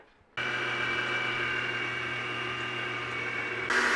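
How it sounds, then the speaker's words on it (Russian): An electric mixer whips eggs with sugar for a chocolate banana sponge cake batter, giving a steady, close motor whir that runs unbroken for several seconds and shifts slightly near the end, with no voices. "Пока яйца с сахаром у нас взбиваются"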